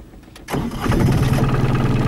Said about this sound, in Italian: Accendi la macchinetta.